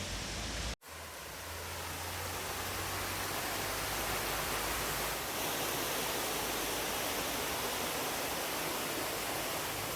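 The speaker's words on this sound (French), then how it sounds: "là on se trouve devant le début de la cascade" A waterfall at Mae Kampong in Chiang Mai spills across a road, giving a loud, steady, broadband rush of water that continues without a break for the whole stretch.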